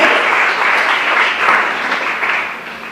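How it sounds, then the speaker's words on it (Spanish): A church congregation claps together in a sustained burst of applause during a worship service, a broad even wash of hands that fades slightly toward the end. "¿Cuánto le brindan un fuerte aplauso al que vive y reina por los siglos de los"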